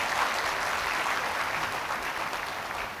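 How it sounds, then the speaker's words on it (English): An audience in a hall breaks into steady, sustained applause, many hands clapping at once at moderate volume. "Can we give them a loud round of applause"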